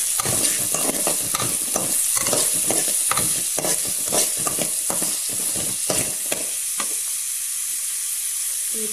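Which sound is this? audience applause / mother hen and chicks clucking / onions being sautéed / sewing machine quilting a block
onions being sautéed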